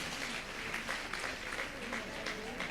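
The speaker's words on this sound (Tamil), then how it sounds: "ஒரு பலத்த கைத்தட்டலோடு நீங்கள் பாராட்டை சொல்ல வேண்டும்" Audience applause at a Tamil public speech event, honouring the girl students who spoke, a steady wash of many hands clapping at moderate volume, continuous with no voice over it.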